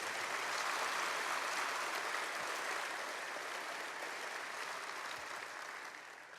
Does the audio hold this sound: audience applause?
yes